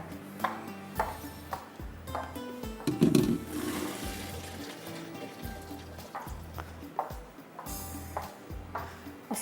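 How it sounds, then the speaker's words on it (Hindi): Boiled peas drained of their cooking water in a home kitchen, giving a close, steady splash and gush of water with clanks of a metal pot and utensils, no talk. "इसको हम करेंगे ड्रेन आउट, फेंक देंगे पानी इसका।"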